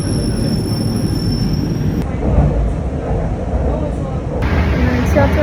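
A Shanghai subway train runs with a loud, steady rumble and a high squealing of wheels that cuts off partway through, close and continuous, with no talk.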